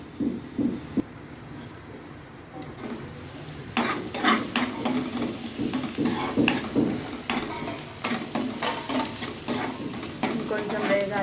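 Egg-stuffed capsicum frying in a pan until browned: a steady close sizzle with rhythmic scraping stirs that grow busier after a brief quieter stretch, no one speaking.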